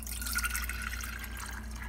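Liquid for persimmon wine trickles and drips steadily into a bucket, a soft continuous pour with light splashing close by and no voices.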